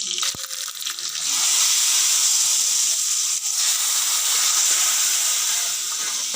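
Spices sizzle in hot oil as tempering is prepared for a green gram rasam, a steady close hiss lasting throughout with a few faint clinks near the start.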